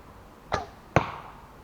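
An arrow shot from a Segye Korean bow, heard as a sharp release snap followed under half a second later by a solid thump into the target, close and clear with no talking.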